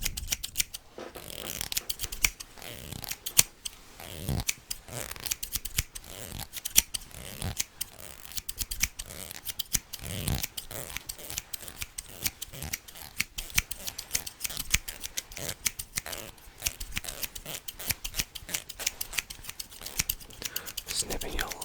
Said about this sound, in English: One snip on the left. One snip on the right.